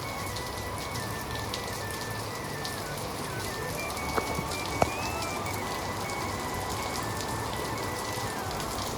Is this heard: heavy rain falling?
yes